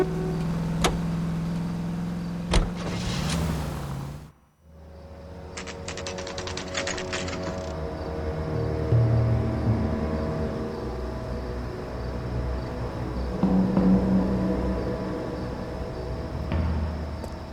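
A car drives in the video game LA Noire, its steady engine hum running throughout with a brief dropout near the start, mid-level and without speech.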